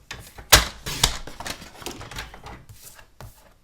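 Cutting A4 card paper, heard as a run of close, crisp, rhythmic crunching snips that grow softer over a few seconds.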